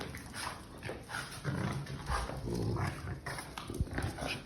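A dog growls and snuffles up close in irregular bursts, with rustling and scuffling around it.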